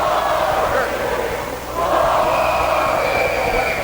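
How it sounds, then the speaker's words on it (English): A home crowd at a 1986 high school basketball game chants in unison, a dense, loud roar that fills the gym without a break and swells slightly in the second half. "Crowd's giving him the boring chant now"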